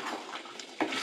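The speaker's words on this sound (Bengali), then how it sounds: "তো এটাকে দিয়ে আমি আর একটু কষিয়ে নেব।" Chicken being stir-fried with cashew paste in a pan for chicken do pyaza, a short stretch of soft scraping and sizzling with a spatula knock near the end.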